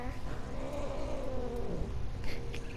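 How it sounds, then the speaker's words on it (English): An angry cat in What Remains of Edith Finch gives a drawn-out growling yowl, steady and close, layered over dense game ambience with a few brief higher sounds near the end. "Kitty cat's mad."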